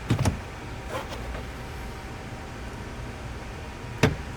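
Plastic interior trim clips on a Porsche pop out as the trim is pried loose, giving a few sharp clicks near the start, near the one-second mark and again near the end, over a quiet background.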